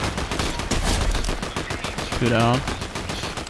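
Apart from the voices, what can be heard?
gunfire in a video game shootout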